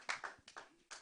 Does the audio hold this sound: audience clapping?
yes